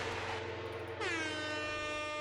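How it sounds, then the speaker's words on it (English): A loud, blaring air horn sound effect cuts in alone, one long sustained blast that follows a brief lower tone. "That is definitely worth a couple air horns."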